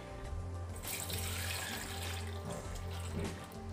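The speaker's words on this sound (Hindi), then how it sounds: "पूरा दूध मैंने इसमें डाल दिया है।" Half a litre of very cold milk pours from close by into a blender jar for an Oreo milkshake, a steady splashing liquid stream that runs loud and continuous for several seconds with no talk.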